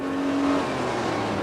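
A 1991 Mitsubishi Shogun engine revving under way, a loud, steady mechanical drone close up, with a brief higher tone early on and no talk.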